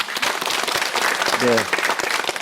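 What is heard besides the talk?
audience applause at lecture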